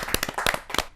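An audience at a Hindi kavi sammelan claps to welcome a poet to the stage, with a short burst of sharp, uneven claps from a modest crowd, close and fairly loud.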